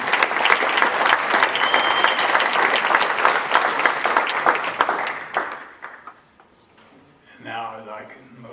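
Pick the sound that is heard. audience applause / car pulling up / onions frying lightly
audience applause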